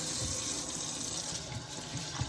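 Cool water runs from a kitchen tap to rinse fresh herbs, a steady, close, continuous splashing stream with no talk over it.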